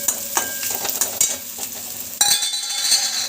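Cumin and mustard seeds roasting in hot oil with onion for paneer bhurji, a crackling sizzle with quick spatula scrapes and metallic taps, swelling into a louder burst of frying partway through.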